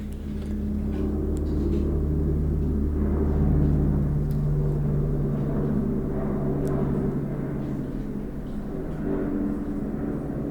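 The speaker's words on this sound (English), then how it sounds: "And the sound you hear there is a helicopter." A helicopter drones overhead, a continuous low rumble that holds steady for the whole stretch with no other sounds.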